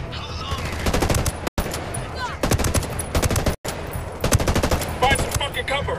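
Rapid automatic gunfire from the video game Ghost Recon Wildlands crackles in loud, dense bursts, broken by two brief silences, with the shooting continuing steadily at close range.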